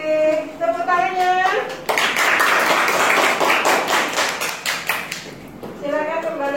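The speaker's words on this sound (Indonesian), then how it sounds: "Tepuk tangannya" A burst of applause from a group in a classroom, steady clapping for several seconds that fades out, with a voice speaking before and after.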